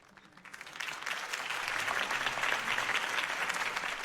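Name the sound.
applause from a video game crowd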